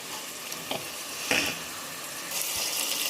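Tomatoes and onions sautéing in a pan for a prawn and karamani kulambu, a steady soft sizzle with a few clinks of stirring, close and fairly quiet, no talking.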